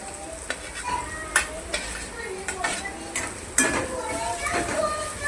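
Potatoes sizzle in a pan for a Gujarati okra-and-potato curry while a utensil scrapes and knocks against the metal in irregular strokes, with sharp clinks rising above a steady frying hiss.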